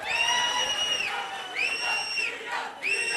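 At a BRS political meeting in Vikarabad, a rally crowd cheers with long, high, ringing shouts and whoops that rise in three waves over a noisy, continuous crowd murmur.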